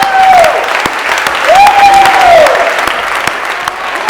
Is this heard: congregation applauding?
yes